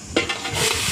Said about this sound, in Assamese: এতিয়া অলপ লৰাই দিছে নানিয়ে